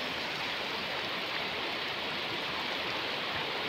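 Steady rain pours over a waterlogged field, a dense, even hiss with no pauses, close and fairly loud throughout.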